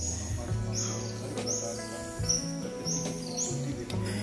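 High, short squeaks of bats repeat every half second or so over a low steady drone, with a few faint clicks in an enclosed, echoing cave in Kachargarh, Darrekasa, Maharashtra.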